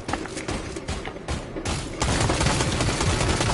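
Gunfire in a Fortnite event shoots at chains, with rapid, dense volleys of shots that grow louder and more continuous partway through.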